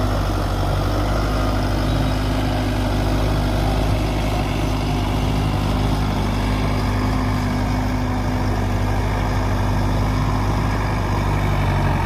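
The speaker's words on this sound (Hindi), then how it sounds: "डेमो था इसका ट्रैक्टर का आज" A Sonalika Tiger 55 DI shuttle tractor runs steadily nearby, its diesel engine giving a loud, constant low rumble with no change in pace, on a farm at a demonstration with harrow and tiller.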